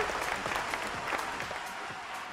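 Applause welcoming a musician on a program presenting his first record, a dense, steady wash of clapping throughout the short stretch, alone and without speech.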